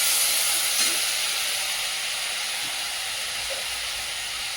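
Steady hiss and sizzle of a chicken dish with a little soy sauce being stirred in a hot pan, a continuous bright frying noise with a few faint scrapes and no talking.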